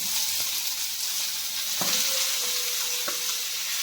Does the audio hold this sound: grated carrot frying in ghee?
yes